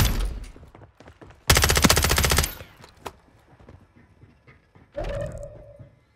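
Bullets sprayed in the video game Warzone 2.0, a loud close burst of rapid automatic fire followed by scattered single shots and a shorter second burst, with quiet gaps between.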